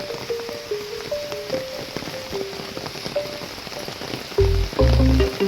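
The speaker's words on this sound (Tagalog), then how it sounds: "Lakas pa rin ang ulan." Steady broadband patter of heavy rain, with scattered drips and a few low thumps near the end.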